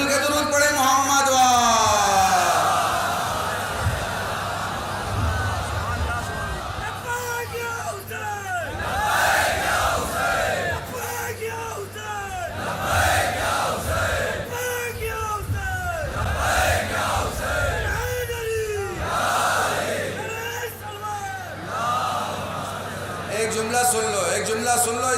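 A dense procession crowd at a Muharram Bani Hashim julus at Badi Karbala, Nawabganj, Kanpur, loudly reciting salawat and chanting slogans in rhythmic surges, with voices rising and falling in waves close by across the whole stretch.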